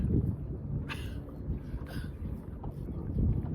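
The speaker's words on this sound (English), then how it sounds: "Guess what? Wind's blowing." Wind blows outdoors at Clear Lake in early May, buffeting the microphone with a low, steady rumble and a few louder gusts, with no clear talk.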